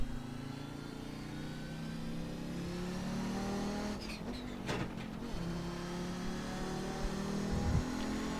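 Audi 90 IMSA GTO Quattro engine in iRacing, revving hard with rising pitch sweeps and abrupt drops at gear changes, a continuous loud racing-engine drone with no talk.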